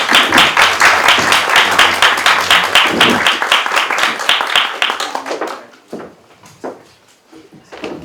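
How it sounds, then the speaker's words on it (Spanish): An audience applauds at a student research journal launch presentation, dense clapping for about five seconds before it thins to scattered claps and fades, with a voice briefly heard near the end. "Un aplauso para ellos."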